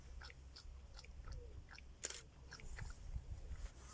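Close, wet crunching and slurping of a pig eating in mud and water, with irregular bites and splashy chomps, one sharper crack midway.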